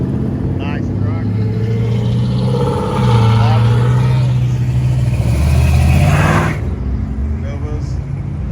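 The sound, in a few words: truck engine driving past in car cruise rollout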